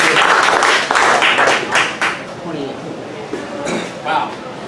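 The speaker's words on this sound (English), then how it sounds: "round of applause for Nathan and David" An audience at an August 2017 campaign announcement event in Atlanta gives a loud, dense round of applause for the speakers, which thins out and tapers over several seconds.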